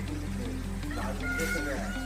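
Chickens cluck and squawk close by in a Konkan village while people talk over them.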